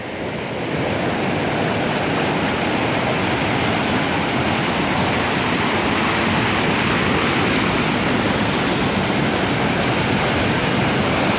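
Water pours steadily down the Woods Creek natural water slide in the Sierra, a loud, continuous broadband roar of rushing current that holds steady throughout with no voices.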